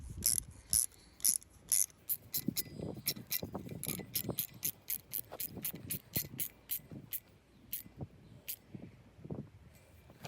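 Black-head screws being tightened by hand to mount a Smappee smart EV charging station, a close, steady run of ratcheting clicks in quick bursts with short pauses.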